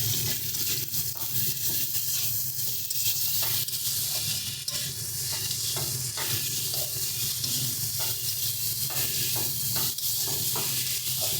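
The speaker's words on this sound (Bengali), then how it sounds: "দিয়ে দিচ্ছি গুঁড়ো মশলা, হলুদ গুঁড়ো, ভালো করে এবার সমস্তটাকে মিশিয়ে নেব।" Beans with ground spices and turmeric are stirred in a hot pan, a steady hissing sizzle with regular scraping strokes of a spatula repeating throughout.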